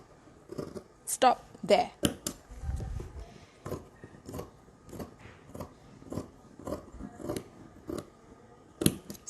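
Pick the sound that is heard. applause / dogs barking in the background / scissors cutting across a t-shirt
scissors cutting across a t-shirt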